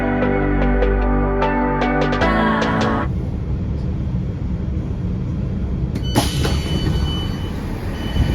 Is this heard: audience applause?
no